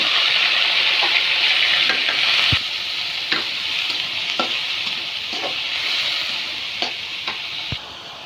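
Chili and onion frying in hot oil in a wok for a banana flower recipe, with a steady loud sizzle throughout and occasional sharp clinks of a spatula stirring against the pan.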